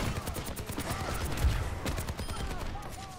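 Rapid bursts of weapon fire from an Overwatch 2 character in the video game, a dense rattling volley with game effects layered over it and a faint voice underneath.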